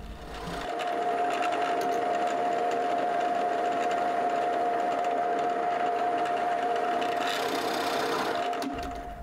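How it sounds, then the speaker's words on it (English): A drill with a countersinking bit whirs continuously while countersinking holes in a wooden boot jack, a steady high motor drone close up, starting and stopping cleanly with no talk. "then I get it set up with the countersinking bit and countersink both sides of the hole"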